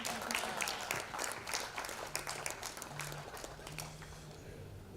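Audience applause in a conference hall, a steady wash of many hands clapping that holds for several seconds and slowly thins toward the end.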